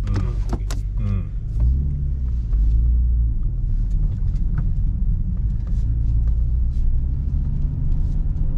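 A Nissan Z34 Fairlady Z Version NISMO with its dedicated exhaust muffler, heard from inside while driving: a steady low engine and exhaust drone with road rumble throughout, plus a brief mechanical whir near the start.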